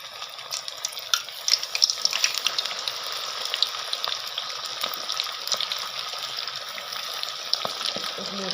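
Coated chicken leg pieces for KFC-style chicken dropped into hot oil, a steady bubbling sizzle with crackling pops throughout, fairly close and without talk.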